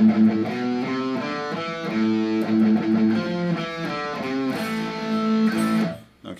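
Guitar playing a single-note beginner exercise from a Wolf Marshall Basics method book, a steady run of plucked notes at moderate, even volume and close up, with no talking.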